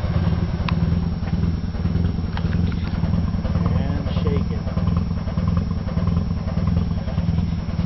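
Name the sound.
1974 Mazda RX4 rotary engine running, old exhaust shaking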